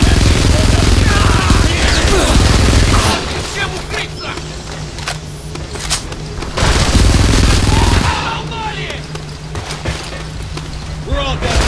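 Intense gunfire and booming blasts in the war shooter Frontlines: Fuel of War, coming in dense loud bursts that ease off between them, with voices shouting orders over the combat.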